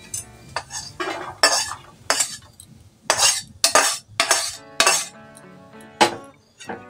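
A utensil scrapes and clinks against the pan again and again as fried chira pakoras are lifted out, with a faint sizzle of oil underneath. No one speaks.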